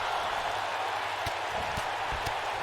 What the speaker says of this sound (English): Crowd is electrified here.